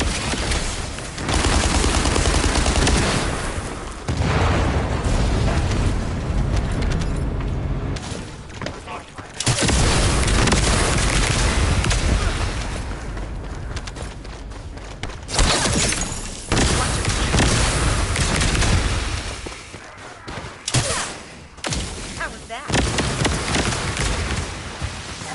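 Heavy gunfire and explosions from The First Descendant tear into a Vulgus supply aircraft, long loud dense barrages broken by short gaps, with speech over parts of the fight.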